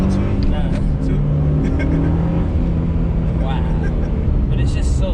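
A Mitsubishi Evolution 4 turbo car accelerates hard, a loud close engine drone with rising tones through a pull and a brief dip as it shifts, with wind and road noise around it.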